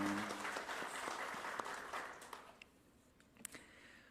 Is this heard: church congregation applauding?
yes